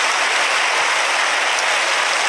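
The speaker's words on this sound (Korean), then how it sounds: "여러분 박수를 한번 뜨겁게 축하해 주시기 바랍니다" Loud, dense applause from a large church congregation during a baptism service fills the room, a steady wash of clapping with no voices over it.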